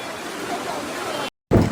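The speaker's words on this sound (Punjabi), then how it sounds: "ਪਾਣੀ ਦਾ ਫਲੋ ਬੜਾ ਤੇਜ਼ ਹੈਗਾ" Fast-flowing water rushes in a steady, loud broadband wash, cuts out for a moment, then returns slightly stronger.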